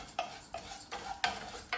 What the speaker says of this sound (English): I'm just gonna start stirring that in my hot pan